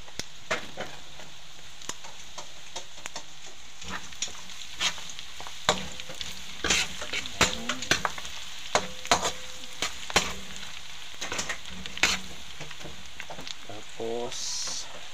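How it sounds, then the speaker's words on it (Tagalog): Garlic frying in oil for a beef offal pinapaitan, with a soft continuous sizzle and scattered sharp taps of a utensil against the pan, close by, with a voice talking over it at times. "So lalagyan na natin yung bawang guys."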